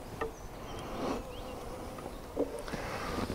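Honeybees hum from an opened hive of a colony that has not yet drawn out a frame. The buzz is a steady, low, diffuse drone, fairly faint, with a few closer passes.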